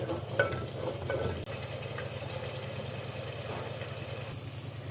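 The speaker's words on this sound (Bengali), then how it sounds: "মশলাটা ভালো করে কষিয়ে নিতে হবে" Spice masala sizzles in a pan with cooked koftas as it is stir-fried, giving a soft steady hiss under a low, even hum, with a few stirring scrapes near the start.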